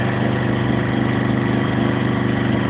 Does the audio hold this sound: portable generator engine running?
yes